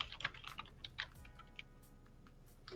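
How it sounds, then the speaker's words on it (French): Keys tap on a computer keyboard in a few sparse, soft clicks that thin out into near quiet, recorded close and faint. "On t'entend bien tapoter, hein."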